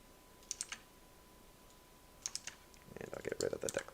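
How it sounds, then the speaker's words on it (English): Keys clatter on a Razer computer keyboard in short bursts of quick clicky taps, first sparse and then a faster flurry near the end, close and fairly quiet. "Stupid Razer keyboard."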